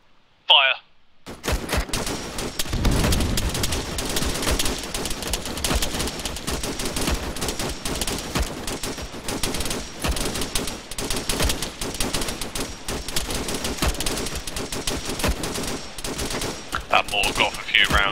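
Sustained rapid rifle fire crackles through a firefight in The Rifles GU, a military shooter, with dense overlapping shots and bursts continuing loud and near from start to finish after a brief quiet opening.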